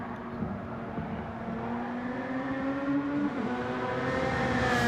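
Peugeot RCZ race car in Gran Turismo 7 holds a steady engine drone with a rising pitch through the final turn of a one-make sprint race, continuous and moderately loud with no talk.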